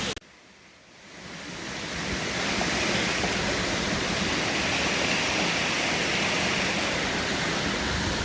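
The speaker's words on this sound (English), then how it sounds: "this little creek that you hear behind me. There's a little waterfall." A little creek with a small waterfall on a South Carolina hiking trail pours in a steady, loud broadband rush that swells in after a brief quieter moment, continuous with no voices.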